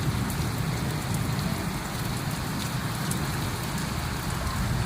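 Afternoon rain pouring steadily onto garden plants and jasmine flowers during a storm with lightning, a dense continuous hiss of drops close by with no voices.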